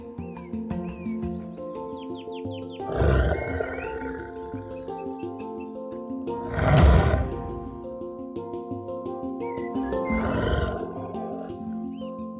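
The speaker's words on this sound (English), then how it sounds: "there was a seasoned lion." A lion roars three times, deep, loud and close, each roar swelling for about a second with pauses between, over a soft background of music and chirping birds.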